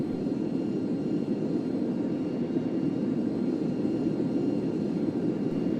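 A Cessna Citation C-560XL business jet in the AirSim3D flight simulator, its engines giving a steady, even low roar that holds constant throughout with no talk over it.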